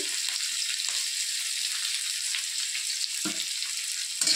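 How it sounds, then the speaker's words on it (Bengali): Onion and garlic fry in a pan with whole cumin for a pumpkin-greens chana dal, giving a steady close sizzle throughout with a few faint clinks of stirring. "এইগুলো একটু লাল লাল করে ভেজে নেব।"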